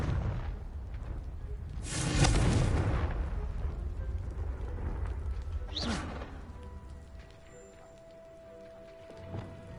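A Confringo fire spell from the Hogwarts Legacy video game erupts in a single loud, crackling blast early on, followed by a fainter whooshing burst and quieter ambient game sounds trailing off.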